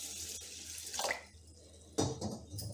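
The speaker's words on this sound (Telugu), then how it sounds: "చేతు వేళ్లతో బియ్యము పగలకుండా ఇలా ఒకసారి కడుక్కోవాలి." Hand-washing three cups of rice in water: soft, close sloshing and splashing swirls in two or three brief bursts, with quiet pauses between and no speech.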